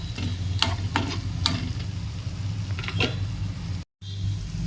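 Andhra chilli powder being stirred into food frying in a pan, a steady sizzle with repeated scraping strokes of a spoon against the pan, close up, with a brief dropout near the end.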